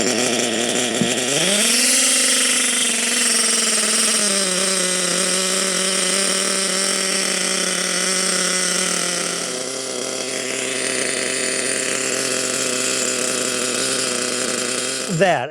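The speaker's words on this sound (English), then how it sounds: "That is sounding like a pretty good idle." A nitro engine in an HPI Savage RC truck idles loud and close, a steady buzzing drone that revs briefly at the start, then settles into an even idle with a slight shift in tone partway through.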